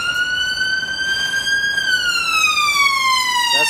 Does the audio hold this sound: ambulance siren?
yes